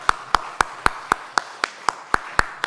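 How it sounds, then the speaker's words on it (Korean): A church congregation at a Sunday worship service claps in unison, eleven sharp, evenly spaced claps in a steady rhythm, close and distinct. "여러분, 이건 박수 한번 쳐야 돼요"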